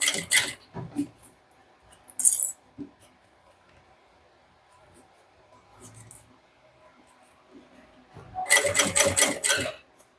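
Sewing machine stitching along the edge of a crossbody bag in short separate bursts, the longest and loudest near the end, with quiet pauses and soft handling sounds between them.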